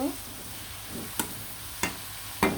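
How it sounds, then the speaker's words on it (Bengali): Radish greens frying with chopped onion and garlic, a steady soft sizzle broken by three sharp scrapes of a spatula stirring the pan at regular intervals. "ভালো করে লাড়াচাড়া দিয়ে খুব সুন্দরভাবে ভাজি করে নিব মূলা শাক রসুন আর পেঁয়াজ কুচি দিয়ে"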